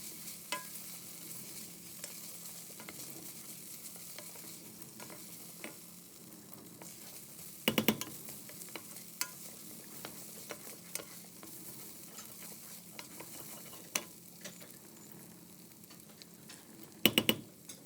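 Pasta being stirred in a pan with smoky bacon and onions, a quiet, low sizzle running underneath with scattered light scrapes and taps, plus a couple of louder clatters from the utensil against the pan.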